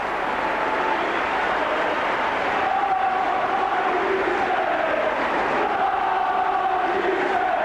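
Rugby league crowd cheering a St Helens try against Sheffield, a broad sustained roar of many voices with chanting tones rising and falling throughout, steady and loud.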